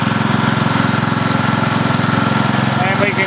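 A small homemade Gen E motor runs steadily under load, driving a generator that powers a 60 watt bulb, giving a continuous close rhythmic chugging hum with even pulses throughout.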